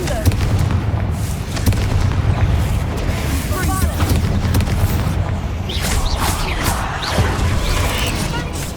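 Fiery Confringo spell blast in Hogwarts Legacy, a booming explosive burst with crackling rumble, followed by sustained game ambience and scattered effects.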